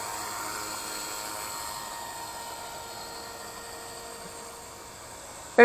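A WLtoys V950 RC 3D helicopter in flight gives a steady, smooth whine of its electric rotor that holds at an even level for several seconds, with no talking.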